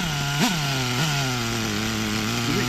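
Small nitro RC car engine revving steadily under a high-end carburetor needle adjustment, a loud close buzzing drone whose pitch dips and rises in a few brief blips, with no talk.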